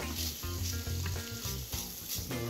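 Vegetables and leftover seasoning frying in a pan, a close steady sizzle with crackles under background music, no talking.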